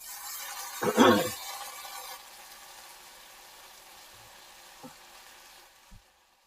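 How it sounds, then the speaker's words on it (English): Meat for poutine hits a hot pan with a short, loud sizzling burst, then settles into a faint, steady frying hiss with a couple of small clicks near the end. "First, I'm cooking my meat."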